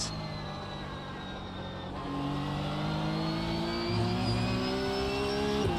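A GT3 race car engine in a racing video game revs loud and steady through gear changes, climbing in pitch as it accelerates around the Nordschleife.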